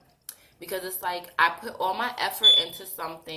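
Smoke detector with a low battery chirping in a room, a short high electronic beep sounding once under steady close talk.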